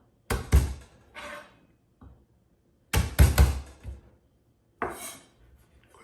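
A knife chops garlic cloves on a board in a home kitchen: quick clusters of sharp knocks, two or three strikes at a time, separated by short silences.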